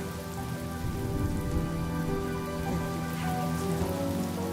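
Steady rain falls in a Honkai Star Rail scene, a dense, even patter on surfaces that stays constant throughout, with faint held tones running underneath and no voices.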